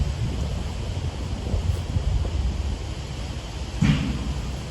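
Wind blows outdoors on a disc golf course, making a steady low rumble of buffeting against the microphone with a brief stronger gust near the end.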